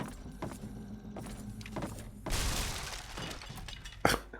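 Glass smashing as intruders break into a house in the Fallout 3 video game: a burst of shattering and crashing midway, then a sharp final crack, with scattered clatter and thuds around it, no talking.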